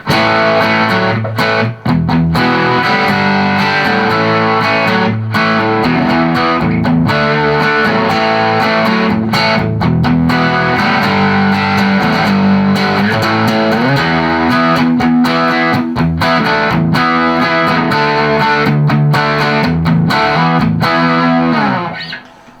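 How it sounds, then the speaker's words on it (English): A distorted electric guitar plays continuously through a Boss delay pedal into a Fender Tone Master amp, gritty and loud, with echoing repeats smearing the notes together throughout. "the delay, it does get a little gritty if you want to turn it up. You can give it some distortion"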